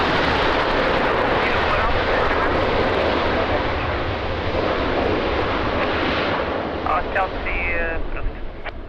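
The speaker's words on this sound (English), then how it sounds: "And another amazing landing." Airliner landing at Lisbon Airport in rain, a broad continuous roar of jet engines and wet rumble filling the scene, steady and loud throughout, with faint voices briefly audible near the end.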